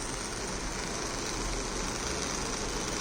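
A small motor in a Raspberry Pi vehicle security setup runs continuously, giving a steady, even, dense hum at close range with no break or change and no talking.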